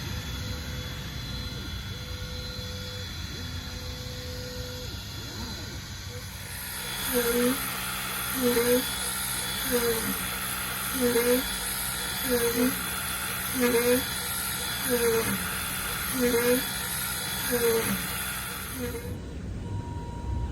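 Falcon 2 laser engraver cutting an engraving into 1/4-inch plywood. A steady fan and exhaust hiss with tonal motor whine grows louder midway, joined by regular stepper-motor chirps about once a second as the head sweeps back and forth.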